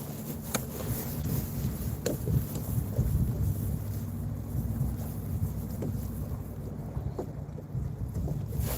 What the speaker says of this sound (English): Wow, that wind is terrible.